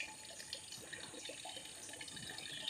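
A thin stream of water runs from a village tap into a metal pot, a faint continuous trickle heard from a little distance over steady background noise, with no talking.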